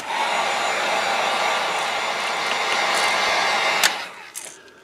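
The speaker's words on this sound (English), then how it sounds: "Let's get the heat gun. Let's get this dry." A heat gun blows a steady, loud broadband roar while drying fresh paint, running continuously for several seconds before cutting off with a sharp click and fading to quiet.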